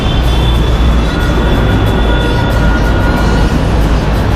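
Steady, loud rumble and rolling wheel noise from inside a moving LRT light rail train carriage, continuous throughout, with no talking.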